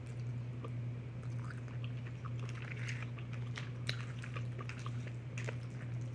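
Crunchy chewing of spicy fire noodles with enoki mushrooms and cheese, close up, with a steady run of small crisp bites and squishes over a low electrical hum, no talking.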